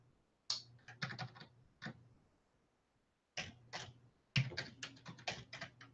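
Fingers type a chat message on a computer keyboard, producing close, crisp key clicks in short irregular bursts separated by brief pauses, with no talk.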